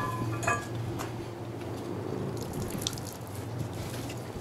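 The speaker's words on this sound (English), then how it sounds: "liberally put a little soapy water on" Soapy water is applied liberally to a motorcycle tire during a tire change: soft wet splashing and dripping with light clinks of metal or tools, faint and close, against a quiet room background without speech.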